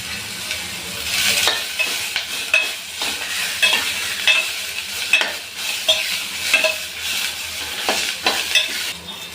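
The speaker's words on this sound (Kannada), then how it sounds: "ಈರುಳ್ಳಿನ ಕಲರ್ ಚೇಂಜ್ ಆಗೋವರೆಗೂ ಫ್ರೈ ಮಾಡ್ಕೊಳ್ಳಿ" Chopped onions and coriander leaves fry in a pan, with a steady sizzle broken by repeated scraping stirs of a spatula, close and clear, and no talking.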